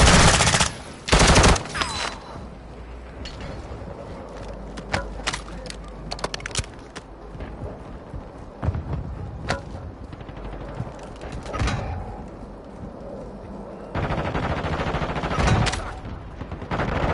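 Video game battle gunfire crackles nonstop, with bursts of automatic fire and sharp single shots over a dense, loud backdrop of explosions and mechanical clatter, with brief voice callouts mixed in.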